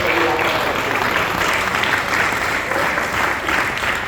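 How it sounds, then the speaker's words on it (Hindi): Audience applause at a Hindi comedy poetry recital fills the space with loud, dense, continuous clapping from a large crowd, steady throughout. "जोरदार ताली उनके सम्मान में इसलिए लगाए"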